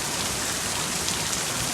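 Heavy rain pours outdoors during a storm with extremely high winds, a dense, steady hiss of water hitting surfaces that stays loud and even throughout, with no voices.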